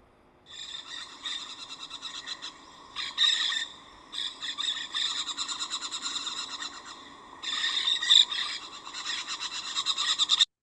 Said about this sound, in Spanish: Ahora escuchemos Brutoyeris versicolurus, que es White Wing Parakeet,